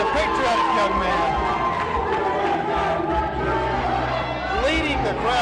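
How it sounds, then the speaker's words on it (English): A big crowd at a televised wrestling event chants USA in a loud, continuous roar, layered with commentators talking over it. "Leading the crowd to chant of USA"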